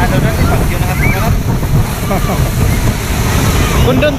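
Big typhoon surf crashes against a Philippine shoreline in a dense, constant rumble blended with wind buffeting the microphone. People talk indistinctly beneath the roar.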